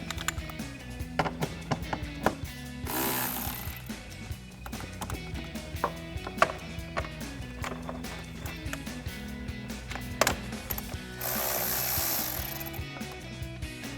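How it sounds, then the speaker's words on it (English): A socket ratchet with a 10mm socket clicks in quick bursts while loosening a cold air intake clamp bolt on a car, with metallic taps and clinks between, close and alone. "Next we can take a 10mm socket to loosen up our clamp as well as remove this bolt."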